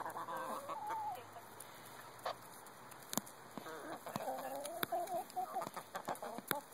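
Several backyard hens cluck and murmur close by as they come running, their warbling calls rising and falling, with a few sharp clicks and knocks mixed in.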